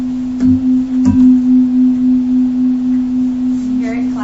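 Two tuning forks struck together, giving a steady pure tone that swells and fades in a slow, regular beating pulse, with brief strike clicks at the start.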